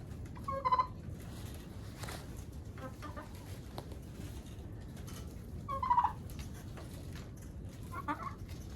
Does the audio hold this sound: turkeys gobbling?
yes